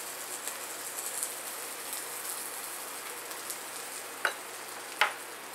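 A patty melt sandwich fries in margarine in a pan, giving a steady close, even sizzle throughout with a couple of brief sharper pops near the end.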